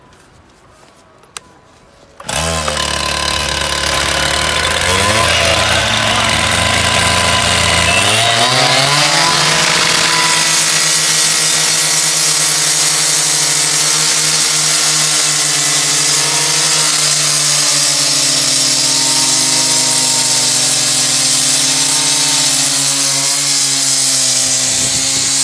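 A diamond saw blade, a 15 mm alternating T-segment type, cuts steel with a loud, continuous power-tool whine that starts abruptly, rises in pitch as it spins up, then holds a steady grinding drone throughout, with no talk.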